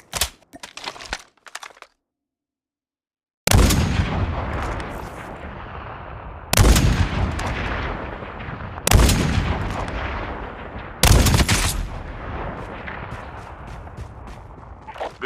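Bursts of SMG fire from a CSS 9 in an online battle royale shooter, sharp loud cracks in several rapid volleys separated by short gaps, close and dominant.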